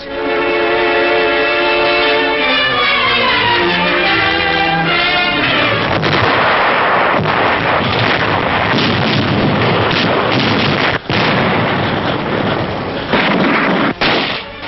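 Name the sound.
artillery fire in World War II newsreel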